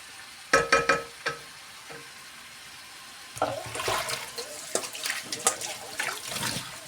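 Water poured into a pot of frying potatoes for a Banat-style potato stew with fresh sausage: a few sharp knocks, then a surging splash and hiss of liquid hitting the hot pan.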